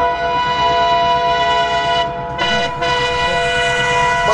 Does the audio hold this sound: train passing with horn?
yes